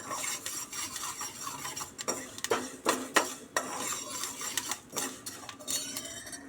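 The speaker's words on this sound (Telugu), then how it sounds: "మెంతులు చిటపట అంటున్నాయి" Fenugreek seeds spluttering in a hot pan for tomato chutney, with sharp scattered crackles and pops alongside metallic scraping of a spoon against the pan, fairly close and without speech.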